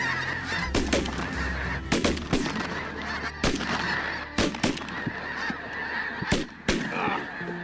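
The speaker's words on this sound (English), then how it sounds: "When this single snow goose comes around" Snow geese honk in a dense, continuous chorus during a waterfowl hunt, with loud overlapping calls close by and sharp bursts breaking through the flock noise.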